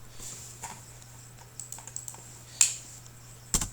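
Data is typed into an Excel entry form on a computer keyboard: faint, irregular key clicks in a quiet room, with a couple of sharper taps near the end.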